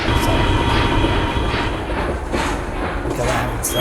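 A train rolling along the rails in the Trains And Railroads video game, a steady, loud, continuous rumble with faint voice-like sounds mixed in throughout.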